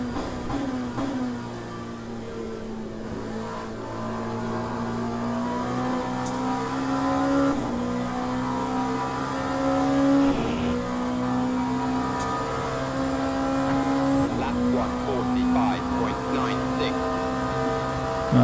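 A race car engine from Le Mans Ultimate drones steadily, its pitch climbing and dropping in repeated steps as gears shift. The tone stays loud and close throughout, with a voice talking over it.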